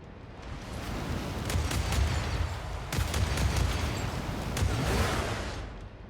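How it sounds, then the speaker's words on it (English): Fireworks launch in the post-apocalyptic car game Dust Raiders: a dense, continuous volley of crackling bangs and booms. The sharp bursts pile up over a steady roar, loud and sustained throughout. "Just launch the fireworks"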